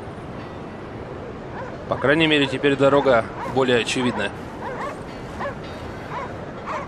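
A dog barks in the Cryostasis: Sleep of Reason video game, faint yips near the start and end, with someone speaking over the middle.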